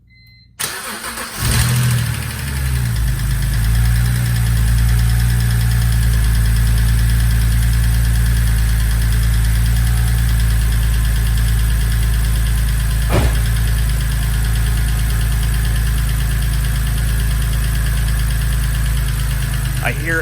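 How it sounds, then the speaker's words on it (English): A BMW N52 engine cranks and fires up after an O2 sensor replacement, then settles into a steady, loud idle with a continuous mechanical lifter tick running underneath. "I hear a lot of lifter tick"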